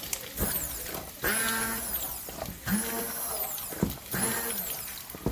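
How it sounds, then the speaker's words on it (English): An immersion blender purees creamy zucchini soup with chili flakes in three loud, whining bursts of motor noise separated by brief pauses, heard close up with no talking. "And then we're going to take our immersion blender and just zap it"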